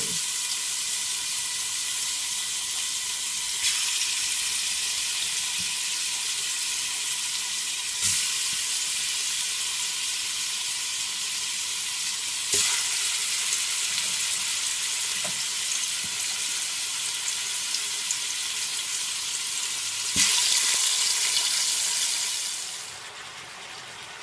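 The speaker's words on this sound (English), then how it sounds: "I'll just put my meat for now so the meat can brown." Oxtail pieces browning in a hot pot give a steady, loud sizzle that runs unbroken, with a few sharp crackles and spatters rising above it and a brief swell near the end before it eases off.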